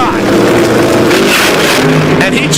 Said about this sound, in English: And he chatters the tires.